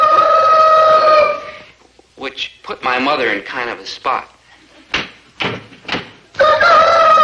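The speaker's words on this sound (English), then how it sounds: "Winnie, I tell you there's a rooster around here someplace." A rooster crows loudly and nearby, a long harmonic call at the start and again at the end, with people talking in between.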